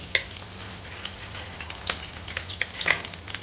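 Curry leaves crackling in hot ghee for Mangalorean chicken sukka: a close, steady frying hiss scattered with sharp little pops and spits throughout.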